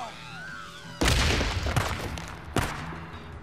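In the Days Gone video game, a grenade explodes with a loud, sudden boom, followed by rumbling debris and a second blast, while faint tonal game sounds play before the explosion.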